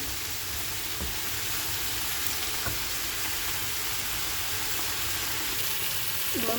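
Beetroot and carrot pieces fry with salt and turmeric in a pan, giving a continuous hiss and sizzle that stays steady from start to finish, with a few faint scraping stirs underneath and no talking.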